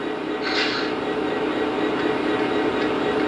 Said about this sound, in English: I'm going to go ahead and get the locomotive running